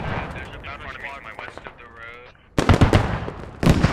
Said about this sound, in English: BMP takes a shot at Redibus.